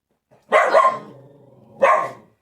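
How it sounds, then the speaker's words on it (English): Two loud dog barks from outside, close, the first a drawn-out double bark and the second a shorter one after a brief pause. "There's a dog barking outside."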